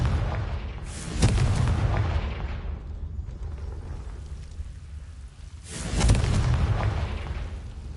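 Two heavy booms from the Confringo fire spell in the video game Hogwarts Legacy, each a loud blast that rumbles and fades over a couple of seconds, with no speech.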